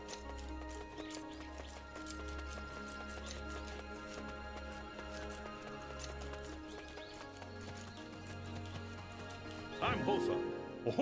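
Horse hooves clip-clop in the video game Black Desert Online, a steady rhythmic trotting under game music and talking voices that grows louder near the end.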